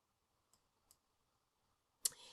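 A computer mouse clicks quietly two times, then a sharper, louder click comes with a brief rustle in an otherwise quiet room.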